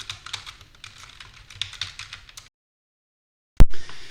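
Quick, irregular keystrokes on a computer keyboard patter steadily for about two and a half seconds, stop into silence, then a single loud sharp thud lands near the end.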